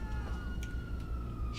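A police siren in a video game, with a faint wailing tone sweeping slowly under steady background game noise and clicks.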